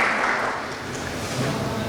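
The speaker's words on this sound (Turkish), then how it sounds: "En büyük alkış onların olsun." Sustained applause from the audience at a Kayserispor extraordinary general assembly meeting, a dense steady wash of many hands clapping at even loudness throughout, with no voices rising above it.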